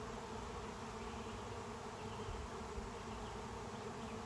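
A honeybee swarm moving into an old deadout nuc box, a dense, steady, close buzzing drone of many bees that fills the whole stretch evenly, with no voices.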